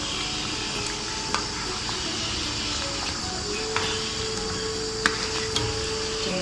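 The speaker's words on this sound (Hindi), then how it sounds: "साथ चलाएंगे ताकि ये नीचे न लगे।" Karahi gosht with green chilies being stirred in a pan, a steady sizzle of frying meat with occasional light scrapes and clinks of the spoon against the pan.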